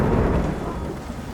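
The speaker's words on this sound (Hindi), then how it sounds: "बारिश की बूंदें अब भी गिर रही हैं" Heavy rain pours steadily with a deep thunder rumble underneath, a dense, continuous wash of noise over a farmer's damaged field, no voices.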